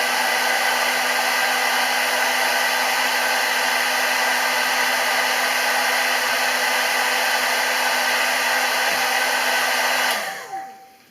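A hair dryer running with the heat off, a loud steady blowing whir with a constant motor tone that holds evenly, then winds down near the end.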